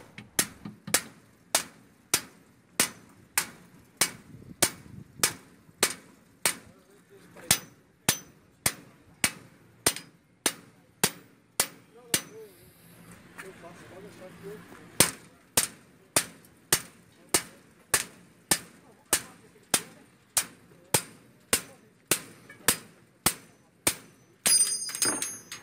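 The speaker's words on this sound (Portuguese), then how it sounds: "com a batida do martelo eu chego a quebrar o martelo e a solda não quebra." A hammer strikes a welded steel beam for a retaining wall in a long steady series of sharp, ringing metallic blows. There are about forty hits, evenly spaced, with a brief pause midway.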